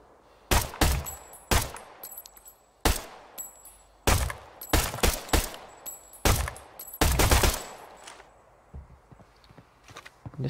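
Gunfire from the mobile shooter game Arena Breakout, with sharp loud shots coming in single cracks and short bursts and an uneven rhythm across the stretch.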